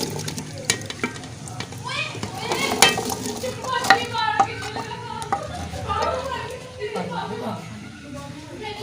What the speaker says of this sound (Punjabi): ਹੁਣ ਅਸੀਂ ਇਹਦੇ 'ਚ ਪਾਵਾਂਗੇ ਸ਼ਲਜਮ